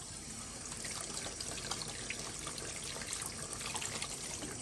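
Tap water runs steadily over a violet vegetable being washed at a sink, giving an even, close rushing trickle with small splashes and no talk.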